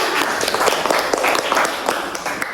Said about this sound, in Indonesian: Tepuk tangan dulu sama kita semua.